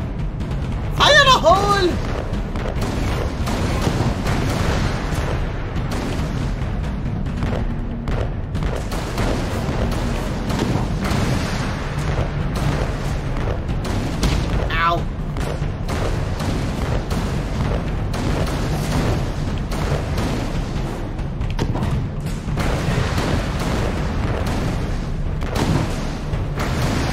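Deep booming cannon blasts from the video game Alice: Madness Returns, set in an undersea level with shipwrecks, repeat under a steady wash of game music and ambience, with a voice-like layer running throughout.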